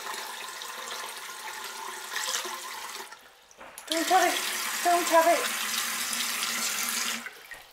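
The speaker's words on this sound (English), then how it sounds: "we're going to just fill this jug with some water." Water runs from a tap into a jug in a steady broadband rush that briefly breaks off, then resumes and builds as the jug fills, with a brief voice over it.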